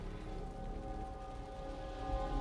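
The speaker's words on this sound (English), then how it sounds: "The rain's getting heavier." Steady rain in the video game Wuthering Waves, a soft continuous patter with a low rumbling undertone that swells slightly louder toward the end, with no voices.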